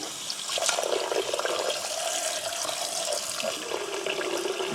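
Cold tap water runs steadily into a freshly washed kitchen sink, a continuous close splashing rush with a shifting pitch as the basin fills, heard alone without talk.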